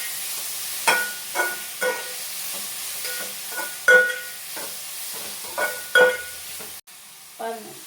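Tomato rice ingredients with salt sautéing in a pan, a steady close sizzle with repeated scraping stirs of a spoon against the pan at irregular intervals.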